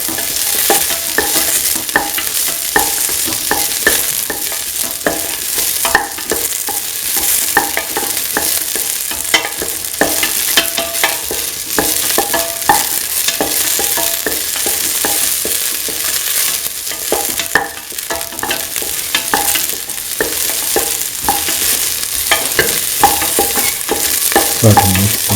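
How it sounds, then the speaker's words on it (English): Ginger and garlic with salt frying in a pan while being stirred, a steady close hiss of sizzling oil broken by frequent scraping and clinking of the spoon throughout. "Salt and mix the ginger and the garlic"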